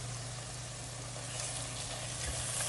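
A paste of ginger-garlic, green chilies, coriander and mint frying with onions in a pan for Andhra-style chicken pulao, giving a steady, even sizzle throughout with no voices.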